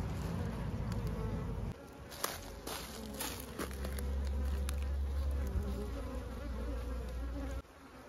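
Honey bees buzz densely inside a packed swarm trap, a steady close insect drone that swells louder midway, with occasional handling knocks and no talking.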